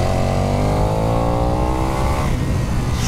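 KTM 1290 Super Duke EVO motorcycle engine revving loud and close, pitch climbing steadily before dropping off as the throttle closes, on a damp hill road.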